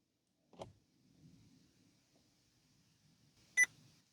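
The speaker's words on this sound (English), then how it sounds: "There's the beep, and the secret menu has now appeared on the small screen down there in the instrument cluster." A Vauxhall Corsa D (Opel Corsa D) instrument cluster gives a single short, sharp electronic beep near the end, after a soft click and faint cabin rustle, with no talking.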